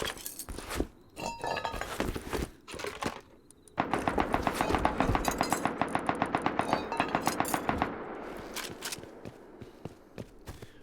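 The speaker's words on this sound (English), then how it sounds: "Those are my defensive turrets firing on something." Defensive turrets in Rust let off a long, rapid run of automatic fire, dense evenly spaced shots lasting several seconds, with scattered single shots and shuffling footsteps before and after and no speech.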